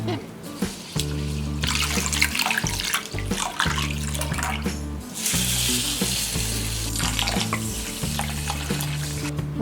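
Urad dal and barnyard millet being washed in water in a kitchen, with continuous sloshing and trickling under steady low-pitched background hum, fairly close and moderately loud throughout.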